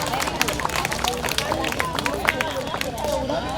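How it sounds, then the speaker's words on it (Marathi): A crowd claps loudly and continuously at an International Women's Day gathering in Nagpur, a dense, steady wash of applause with no pauses. "टाळ्या जोरात वाजू"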